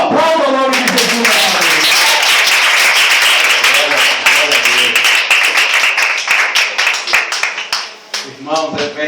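A church congregation applauds loudly, a dense burst of clapping that holds steady for most of the stretch and then thins out, with a voice speaking over the start and again at the end.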